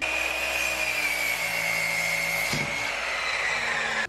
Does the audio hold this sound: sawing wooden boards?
yes